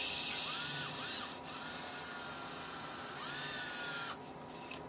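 A valve from an Integra engine is lapped with grinding compound, a steady, close, abrasive rotary whir that swells and drops in strength, with thin rising squeals in places and a quieter stretch near the end.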